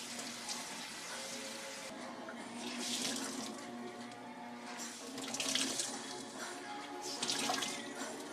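Tap water running over tie-dyed fabric in a sink as the rubber bands come off, a steady close splashing rush with surges where the cloth is moved under the stream; no talk.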